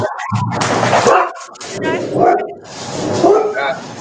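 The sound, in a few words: dogs barking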